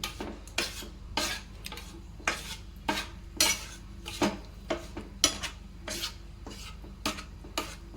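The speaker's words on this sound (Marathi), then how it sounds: "सारखं आपल्याला हलवायचं आहे।" A sweet nylon burfi mixture stirred continuously in a pan over a high gas flame, with regular scraping strokes of a spoon against the metal pan, close and steady, about one stroke every half second.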